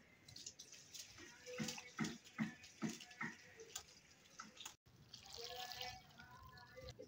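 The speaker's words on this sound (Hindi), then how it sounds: "इसको हम अच्छे से जो है ना काफी पानी से धो लेते हैं" Chickpea greens are washed in plenty of water in a home kitchen, with faint splashing, sloshing and trickling in irregular bursts, a brief quiet break, then continued running water.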